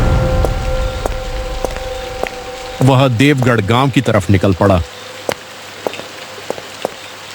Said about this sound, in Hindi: बारिश और तेज हो गई थी